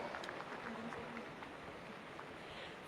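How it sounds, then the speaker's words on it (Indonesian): Sustained crowd applause at an Indonesian TNI and Polri young officers' commissioning ceremony in 2025, a steady wash of clapping from a large assembly at moderate distance with faint voices mixed in. "Kita berikan tepuk tangan yang meriah untuk selebrasi gabungan perwira remaja"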